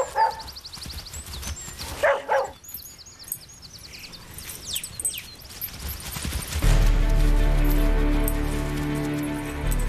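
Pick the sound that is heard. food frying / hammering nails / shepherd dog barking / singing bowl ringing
shepherd dog barking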